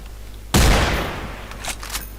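A single loud FR F2 sniper rifle shot in the video game Special Force 2, a sharp boom that decays over about a second, followed by faint mechanical clicks.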